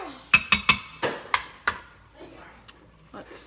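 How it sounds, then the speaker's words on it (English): Chicken cacciatore being stirred in an Instant Pot, a series of sharp metallic clinks and taps of a utensil against the pot, several quick strikes early then sparser knocks, with faint speech between them. "let's stir this up"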